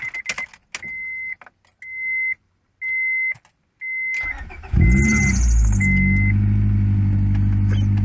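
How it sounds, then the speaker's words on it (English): A car with a failing alternator gives a series of short, evenly spaced warning beeps, then its engine cranks, catches and roars into a loud, steady idle with a brief belt squeal at startup. "Crank 5 seconds or until engine starts."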